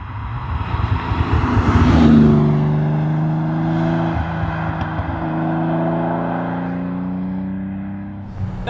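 The big front-mounted engine of a TVR Tamora, a manual two-seat roadster, drones steadily, its tone swelling and easing as the revs shift. No voices are present.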